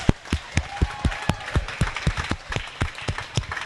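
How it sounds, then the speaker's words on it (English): Rhythmic clapping from a small group at a swimming pool senior day meet, fairly steady beats, moderately close with a faint murmur behind. "Let's give her a big round of applause."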